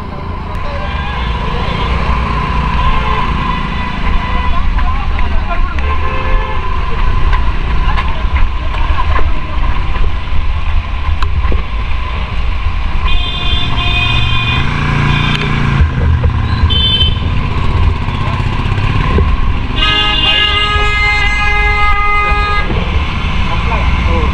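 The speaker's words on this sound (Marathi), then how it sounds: "ट्रॅफिक झाली भावांनो इथं." Busy road traffic rumbles steadily with engine noise, and several horns toot out, clustered mid-way and near the end, while people talk over the din.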